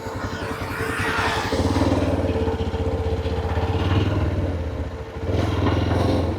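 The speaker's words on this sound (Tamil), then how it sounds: "அப்படியே வண்டியை ஓரம் போட்டு" A motorcycle engine runs steadily close by as the rider pulls over at the roadside, with a throbbing idle that dips briefly and then picks up again.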